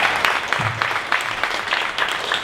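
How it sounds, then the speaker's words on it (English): Applause from an audience at a 1 Million Cups Dallas startup pitch event, a dense, moderately loud clapping wash with a few sharper peaks, steady throughout and unaccompanied by talk. "one more round of applause for ChoreMonstr"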